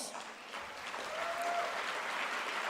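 Audience applause at an awards ceremony, a steady wash of many hands clapping at moderate distance, fairly soft and even throughout with no voices over it.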